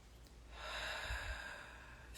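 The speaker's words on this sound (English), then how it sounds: "bring your hands to your heart, and take a nice deep breath" One slow, deep breath, airy and soft, drawn in and released close to the microphone in an otherwise quiet room.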